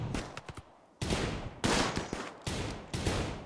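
A gun emplacement in the video game Rimworld fires in bursts, sharp cracks and rattling volleys that come in heavy surges with short gaps between them, moderately distant and without voices.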